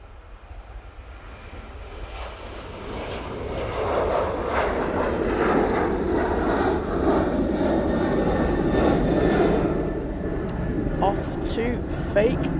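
Qatar Airways jet on approach to Manchester Airport, its engine roar building from distant to loud and close overhead, with people talking beneath it.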